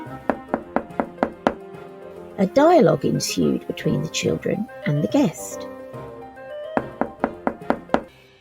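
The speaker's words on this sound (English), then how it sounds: "they heard a knock at the door" A rapid series of crisp knocks, then a voice talking, then another quick run of knocks alone.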